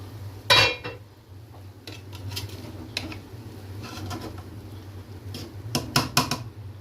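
Chicken yakhni pulao rice being served out of a cooking pot with a metal spoon, giving several sharp utensil scrapes and clinks against the pot at the start and again near the end over a steady low kitchen hum.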